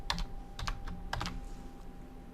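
Rapid keystrokes on a computer keyboard while entering details during a manual WordPress install, heard as short, close, crisp clicks in small bursts over a quiet room hum.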